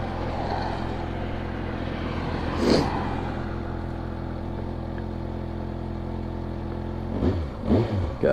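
Stock exhaust of a 2022 Kawasaki Ninja ZX6R 636 on the move, a steady engine drone with wind rush, rising briefly near the start and again with revs toward the end.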